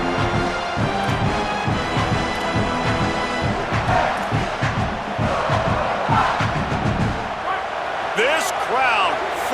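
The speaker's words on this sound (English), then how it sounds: "This crowd, full throat, splitting the eardrums and letting them know it's going to be a long day" A packed stadium crowd in the EA Sports College Football 27 video game roars loudly and continuously during a down, with a commentator talking over the noise.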